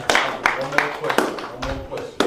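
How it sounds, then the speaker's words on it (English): Scattered claps from an audience at a talk, a handful of separate sharp hits spaced irregularly, with a voice speaking over them. "Clap it up, guys."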